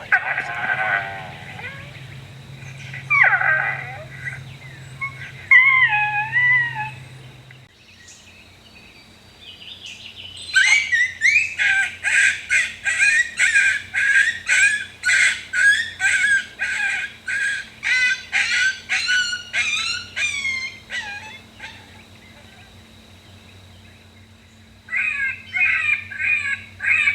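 An electronic predator call plays prey and coyote pup distress sounds outdoors during a coyote hunt: wavering high cries, then a long run of rapid, loud, repeated yelps, followed by a short final burst.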